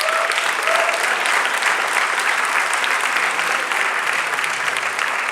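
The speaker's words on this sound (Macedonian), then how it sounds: "да ја поздравим Ивана Дракшич со еден аплауз." An audience at a queer storytelling evening during Skopje Pride Weekend 2018 claps in dense, steady applause that holds at an even, loud level throughout.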